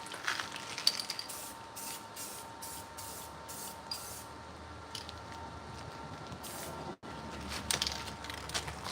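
Continuous hiss of spray paint applied in coats, with short rhythmic bursts and one brief gap, steady and fairly close, with no talk.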